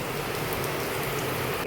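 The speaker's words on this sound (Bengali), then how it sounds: "এই যে আমার এখানে পকোড়া ভাজা হচ্ছে" Chicken pakoras fry in hot oil with a continuous, even crackling hiss that carries on for the whole moment without any voices.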